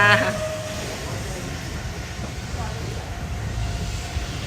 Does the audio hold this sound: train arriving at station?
yes